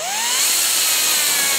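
A grinding wheel spins at high speed against aluminum on a 2022 Beta 200RR Race Edition steering part, giving a loud, sustained whine with a rising pitch sweep at the start, close and alone.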